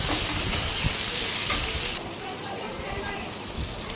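Boiled potatoes added to a hot pan for a vegetarian dish, a loud rushing sizzle that drops to a quieter, steady crackle partway through.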